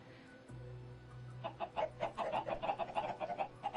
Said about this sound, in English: Now we need chickens, and we don't need a ton.